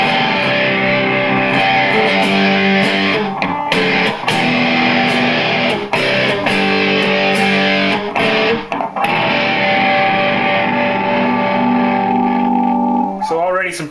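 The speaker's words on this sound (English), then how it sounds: "Now we're going to switch over to the distortion pedal, and you'll hear some immediate differences." An electric guitar through a distortion pedal plays sustained, gritty distorted notes and chords, with crunchy attacks and ringing tones throughout, ending on a held note.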